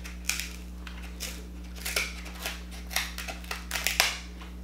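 Scissors snip and crunch at a crab shell during a seafood boil meal, producing a series of irregular crackling cuts and crushing snaps over a steady low background hum.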